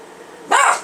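A single short dog bark, close and fairly loud, rising out of a quiet room during a sewing session.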